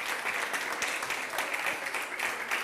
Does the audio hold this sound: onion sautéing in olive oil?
no